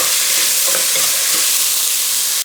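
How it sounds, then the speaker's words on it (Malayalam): Masala is sautéed and stirred in a pan for an Iftar snack, a loud, close, continuous sizzle with brisk stirring scrapes that cuts off abruptly at the end. "അപ്പോൾ ഇത് ഞാൻ നന്നായി വഴറ്റിയെടുക്കട്ടെ"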